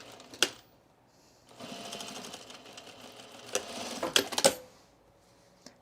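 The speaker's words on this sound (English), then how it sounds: "I'm just going to tuck it under here like this and stitch it down" A sewing machine stitches a label down onto a skort in short bursts, with bright clicks and knocks at the start and a cluster near the end between stretches of steady running.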